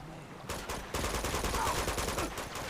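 Gunfire in the Uncharted 2: Among Thieves video game, a burst of rapid automatic shots followed by a sustained loud volley of repeated firing, with no talking.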